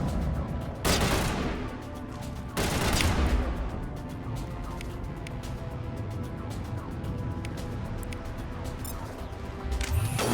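Pistol gunfire in Mass Effect: a few loud, sharp shots with long ringing tails stand out against steady game ambience, with another shot at the very end and no talking.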